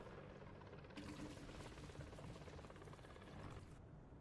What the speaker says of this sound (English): Sure you can hear that enemy chopper.